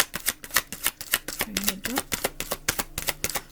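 Playing cards are shuffled and flipped through by hand during a card reading, with a quick series of crisp clicks and riffles close up. A faint voice murmurs briefly in the middle.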